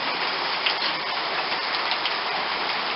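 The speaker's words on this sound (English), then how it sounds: "you're probably getting bored just watching some rain and hail" Rain and hail fall during a spring thunderstorm, a dense, steady patter of hard drops on surfaces, loud and continuous without talk.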